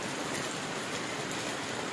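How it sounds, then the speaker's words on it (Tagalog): Steady rain falls on a motorcycle rider out delivering parcels, a dense, even patter with no breaks and nothing else standing out. "Ani ang ulan karon."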